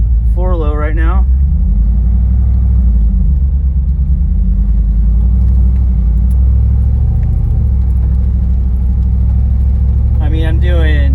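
An LT4-engined Jeep Wagoneer crawls in 4-low at about 10 mph, its deep engine rumble steady and close inside the cabin, with a voice talking briefly at the start and end.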